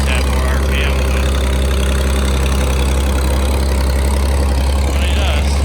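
Tractor engine running loud and close while driving slowly in circles through a thistle-covered field, a constant heavy low drone with mechanical clatter on top.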